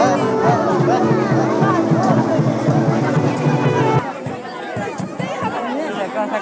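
A dense crowd hubbub fills a Jan Suraaj rally for Prashant Kishor, many overlapping voices close and loud, then thinning and dropping in level partway through.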